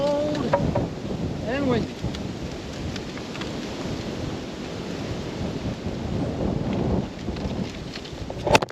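Strong, cold wind roars and buffets steadily and loudly throughout while firewood is being moved, a constant low rumbling rush with occasional heavier gusts.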